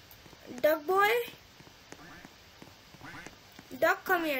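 A video game duck gives two bursts of quacks, one early and one near the end, with a faint game background between them. Someone talks at times.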